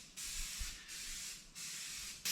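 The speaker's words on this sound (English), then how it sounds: "I do not like how that nozzle's spraying." A spray paint can's nozzle gives three bursts of bright, airy hissing in quick succession, each cut off sharply, up close while a sign is painted in a shop.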